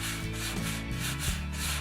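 Steady, close hand sanding of a P-47 Thunderbolt scale model, a continuous rasping texture with rhythmic back-and-forth strokes.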